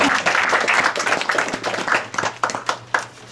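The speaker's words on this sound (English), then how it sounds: "Give her another round of applause." At a student music program, a small audience claps for a young performer with lively, uneven applause that thins into a few separate claps near the end.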